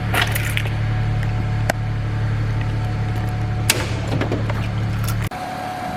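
BMW 335i with the N54 engine, just repaired with a new oil pan gasket and front main seal, idling steadily with a low engine hum and a few clicks and knocks before the sound drops off near the end.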